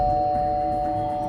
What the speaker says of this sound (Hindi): तभी उसके घर की घंटी बजी।